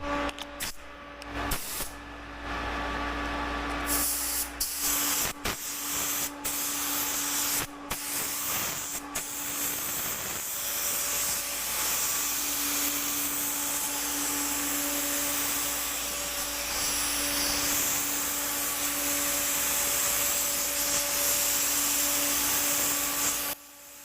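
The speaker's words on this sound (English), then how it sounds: "For the first coat of clear, we'll put a medium to wet coat on." An R802 paint spray gun lays a medium-to-wet first coat of clear onto a car, giving a steady, close hiss of atomised spray with a few short breaks at the start, then continuous for most of the stretch.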